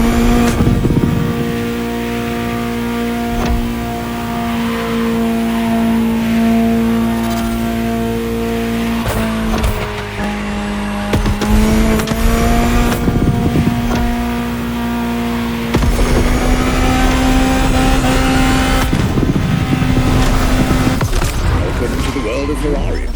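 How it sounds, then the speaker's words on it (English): A Ferrari supercar in the racing video game The Crew Motorfest drones with a steady engine note, revving and shifting pitch through gear changes, loud and close, with a voice speaking over parts of it. "Just listen to the car you're driving."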